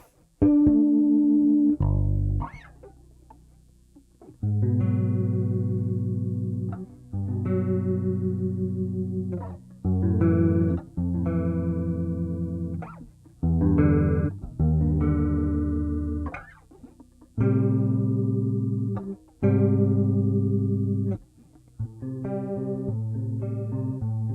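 Electric guitar chords through a chorus pedal, with a warbling, almost organ-like effect, sustained and swirling, played in separate strums with brief pauses, loud and close.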